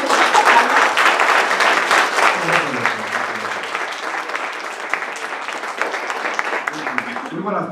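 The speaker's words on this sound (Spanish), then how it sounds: "¡Un aplauso!" Loud audience applause at a university event, dense clapping strongest at the start and easing into a steadier patter, with a voice talking over it.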